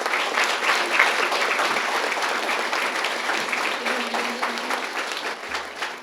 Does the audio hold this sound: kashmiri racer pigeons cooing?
no